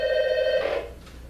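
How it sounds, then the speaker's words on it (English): A telephone rings once, a clear, close electronic bell tone with strong harmonics that ends abruptly after about a second. "Oh, we got a phone call here."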